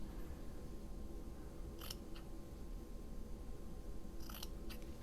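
Quiet, crisp snips of scissors cutting fabric: a couple of cuts, a pause, then a few quick snips in close succession.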